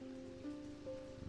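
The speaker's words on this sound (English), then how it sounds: "Is it raining again? It is." Steady patter of rain in the video game Strange Antiquities, a soft continuous hiss with a low sustained musical tone running underneath, no voices.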